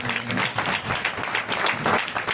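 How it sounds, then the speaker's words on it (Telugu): A revival meeting congregation claps loudly together in a dense, continuous burst of applause filling the hall for a couple of seconds, with a faint voice underneath. "ఒకసారి గట్టిగా చప్పట్లు కొట్టేసి"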